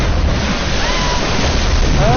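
Ocean waves in the Tomb Raider video game wash in a steady, loud broadband rush of surf and churning water, with wind-like hiss filling the whole moment.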